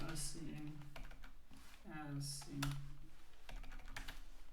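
Rapid clicking keystrokes on a computer keyboard while code is typed for a FastAPI CRUD to-do application, steady and close, running under a person speaking.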